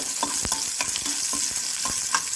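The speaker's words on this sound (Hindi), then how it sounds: "कटा पियाज एमती पकई नौची।" Chopped onions fry in a pan while a spoon stirs them, giving steady close sizzling broken by repeated scraping strokes.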